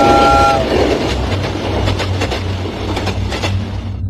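A train rolls past on a village railway line, loud and close, its horn sounding briefly at the start before steady clattering wheel noise and rumble carry on throughout.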